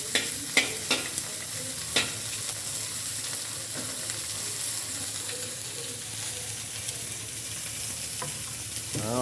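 A grandmother fries bánh xèo pancakes in a pan, producing a steady, close sizzle with scattered crackles and a few sharp pops from stirring or pouring, with no voices.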